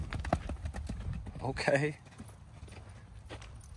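A horse's hooves clip-clop on a ranch, a brief run of light, fairly close steps heard under a person speaking.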